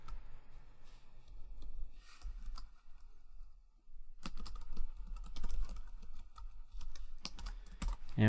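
Rapid typing on a computer keyboard, close and clear, with bursts of keystrokes, a short pause near the middle, then dense continuous clatter.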